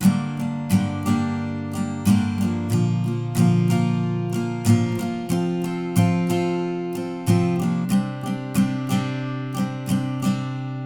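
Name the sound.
acoustic guitar strumming chords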